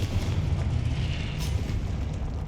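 A blasting-spell explosion in the fantasy video game Hogwarts Legacy during a boss fight, a dense rumbling roar of fire and debris that stays loud and continuous throughout.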